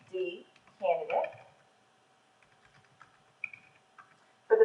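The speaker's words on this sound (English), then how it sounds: "Where it asks for the username, I'm going to type in Jane D. Candidate." Soft, sparse keystrokes on a computer keyboard tap out a username, with a voice briefly speaking at the start and again at the end.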